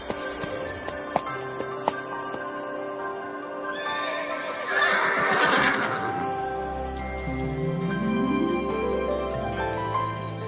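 Several horses whinny and neigh over a busy, rich layered backdrop, with a loud whinny in the middle and a rising cry near the end, joined by faint hoof clip-clops.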